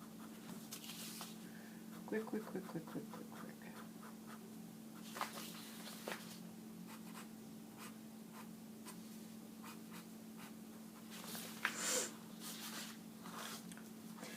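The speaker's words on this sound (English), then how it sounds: "But I'm just drawing quick." A pen scratches quickly across paper in short strokes and scribbles, faint and close, over a steady low hum in a craft studio, with soft speech at times.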